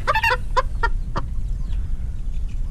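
A Cuban rooster and two red hens cluck in a coop: a few close, loud, throaty clucks and short calls come in quick bursts at first, then thin out into quieter background farm noise.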